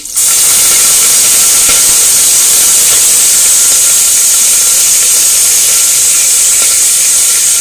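A pressure cooker vents steam in a loud, continuous, hard hiss that starts abruptly and holds steady for several seconds, close and dominant, with no talking.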